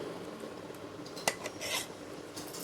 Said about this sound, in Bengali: দেখো ঢেলে দিলাম থালার মধ্যে, ভালোভাবে চারিদিকে ছড়িয়ে দেবো।